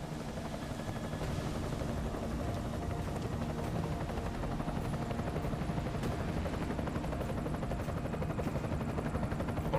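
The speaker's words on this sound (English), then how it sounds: "Enemy helo sighted." An enemy helicopter in Deus Ex: Mankind Divided drones as a steady, continuous rotor roar throughout, even and moderately loud, with no talk.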